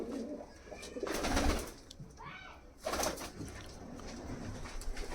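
Pigeons of the Kalduma breed coo in a loft, their soft throaty calls rising in waves over a busy, rustling background of birds moving nearby.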